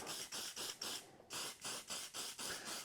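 Repeated hissing bursts of an aerosol oil spray onto a motorcycle air filter foam, about nine short pulses in a steady rhythm, close and fairly loud, with a brief pause midway.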